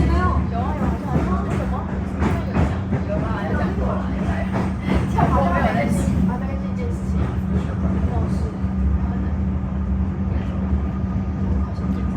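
A Melbourne suburban train running at a long platform as it terminates, giving a steady low rumble and hum throughout with scattered clanks and rattles, while people talk over it.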